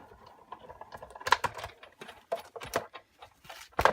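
A Stampin' Up! Big Shot die-cutting machine is cranked with an embossing folder sandwiched between two cutting plates, giving a run of close, ratcheting clicks and scraping bursts that build to sharp peaks, with no talking.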